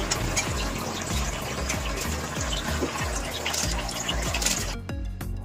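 Rice poured into a pot of rapidly boiling, salted, oiled water for chicken dum biryani, a steady bubbling and burbling wash up close that cuts off abruptly near the end.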